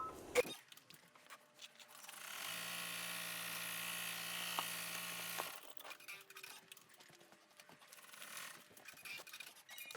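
An embroidery machine stitches a final bean stitch around an in-the-hoop bow tie, a steady mechanical whirring hum lasting about three seconds mid-clip, with quieter handling noises before and after.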